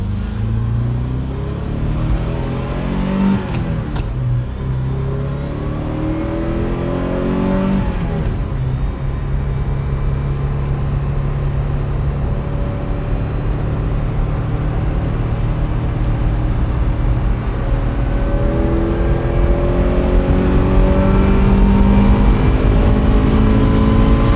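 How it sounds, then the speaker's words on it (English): A 1980 Ferrari 308 GTBi with a gated 5-speed drives through corners, its engine loud and close, revving up and down in sweeping rises and falls as the car accelerates and shifts. "we're getting settled back into this Ferrari. We'll hit some corners"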